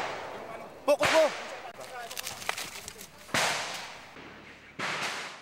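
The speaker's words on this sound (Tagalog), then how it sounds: "Matindi ang palitan ng mga putok." Gunfire crackles during a 2007 firefight in Basilan: sharp, loud cracks and short bursts arrive irregularly, with echoing reports between them and faint voices in the background.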